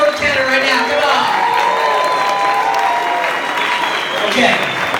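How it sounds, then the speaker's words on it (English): Loud audience applause with cheering and whoops at a Yosemite Facelift presentation, dense clapping sustained throughout with voices shouting over it. "And a big round of applause for Jordan Cannon right now."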